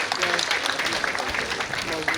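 An audience at the National Muslim Conference at the National Mosque of Ghana claps steadily, a moderate wash of applause holding evenly from start to finish.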